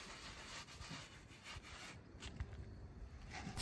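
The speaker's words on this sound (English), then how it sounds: "Sometimes a tiny sponge will be used to scrub it dark on the wall." A small sponge rubs black charcoal liquid over the wall of a traditional African hut, making faint, steady scrubbing strokes with a few soft knocks and no talk.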